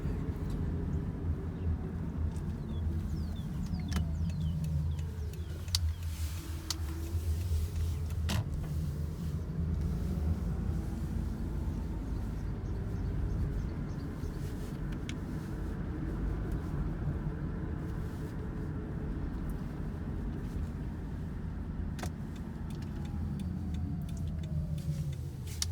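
A 2007 Toyota Camry Hybrid with 181k miles drives along, heard from inside as a steady low road and motor drone with a few faint ticks and brief whooshes of passing traffic.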